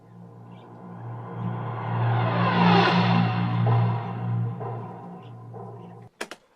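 A pitch-shifted PreSonus crash cymbal sample with added effects swells into a broad, washing shimmer over a low steady drone, then cuts off with two sharp clicks at the end; no talk.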